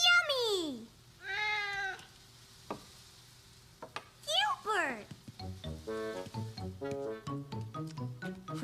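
Cartoon cat meowing in a rainy-day pancake scene, a couple of drawn-out meows near the start, then sliding tonal cries and a rapid run of bright notes, with a character's voice talking at points.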